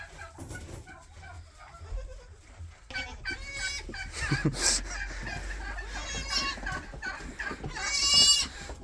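Adult goats and newborn kids from two sets of triplets bleat repeatedly in a barn, with overlapping high cries and farmyard clucking nearby, growing louder toward the end.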